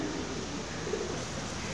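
Soft cooing of pigeons, a faint, brief call low in the mix under a steady, noisy background.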